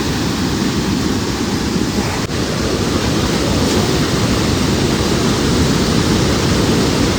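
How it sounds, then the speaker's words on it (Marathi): A fast river, swollen after heavy rain, rushes past in a loud, unbroken roar close to the microphone, with no voices over the torrent. "कसला स्पीड आहे बा पाण्याला."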